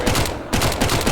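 Rapid gunfire in Counter-Strike: Global Offensive during a tournament match, a quick burst of several loud, closely spaced shots with a brief gap, no talk over it.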